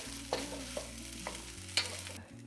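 A utensil scraping through cooked rice and scrambled eggs in a pan, four or five soft stirring strokes over a low sizzle and a steady hum.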